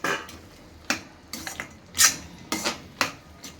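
Roasted makhana, peanuts, almonds and cashews stirred into sabudana upma in a pan, a series of distinct spoon clinks and scrapes against metal in an uneven rhythm, close and clear with no talking.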